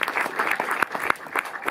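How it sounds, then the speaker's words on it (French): An audience applauds at a film masterclass, a dense, steady patter of clapping hands with a few sharper claps standing out, fairly close and loud throughout. "Que vous pouvez applaudir également."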